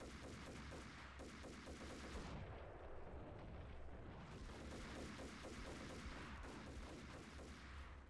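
Dense, rapid gunfire in the video game Max Payne, a near-continuous barrage of loud overlapping shots and booms that drops out briefly midway, then resumes just as heavily until the end.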